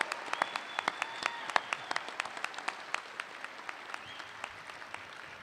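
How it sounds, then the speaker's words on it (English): A crowd at a high school graduation applauds the teachers, with scattered, distinct hand claps over a soft wash of distant applause in a large space. "I want to give a huge round of applause to our teachers"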